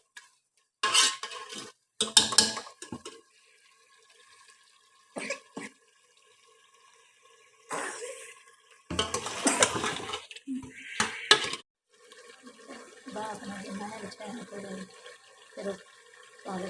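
Beef chunks fry in cooking oil in a pot for palak gosht, heard as intermittent bursts of sizzling and scraping stirring with metal clatter, separated by quiet gaps and light background voices.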